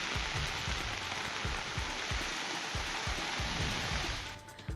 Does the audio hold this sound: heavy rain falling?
yes